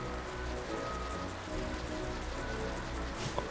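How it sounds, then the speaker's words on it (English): Rain in Final Fantasy XII The Zodiac Age near the Henne Mines, a steady patter of drops on surfaces under faint ambient game tones, even and continuous. "I don't know why it suddenly started raining, considering it wasn't raining about 2 seconds before, but hey, rain"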